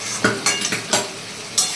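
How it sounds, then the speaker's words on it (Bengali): A utensil scraping and knocking against a pot while stirring braised meat cooking in spiced oil, several sharp clinks and scrapes in an irregular rhythm over a soft sizzle, close and clear with no talk. "নেড়ে চেড়ে দেবো যাতে নিচে না ধরে যায়"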